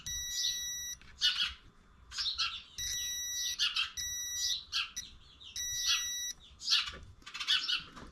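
A multimeter's continuity beeper sounds while testing the stator wiring on a Yamaha DT175B, flagging a short between condenser and points. The tones are high, repeated and clear, arriving in several uneven bursts over a faint background.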